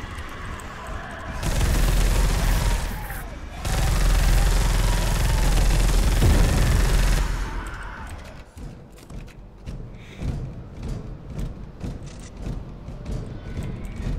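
Assault rifle fire in Space Hulk: Deathwing rings out as a loud, sustained roaring burst that stops, resumes, then breaks into scattered sharper shots and clanks, with a voice talking at points.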